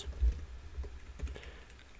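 Keys on a computer keyboard are tapped in a short, uneven run of soft clicks, close and fairly quiet, with no speech.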